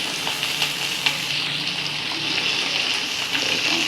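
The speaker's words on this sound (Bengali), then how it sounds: "টমেটো দিয়ে দেওয়া হয়েছে, একটু ভাজা ভাজা হবে টমেটোটা," Tomatoes frying with a fish head in a pan, a steady bubbling sizzle close by with a few light clicks, no voices heard.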